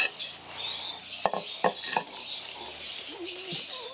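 A few sharp snips cut away the fungus-affected part of a bonsai during repotting, three quick close clicks standing out against soft background birdsong and light ambient noise.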